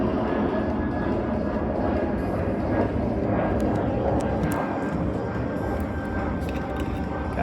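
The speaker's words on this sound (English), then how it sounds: "we got another plane" Airplane passing overhead, a steady broadband engine roar that holds loud and constant throughout.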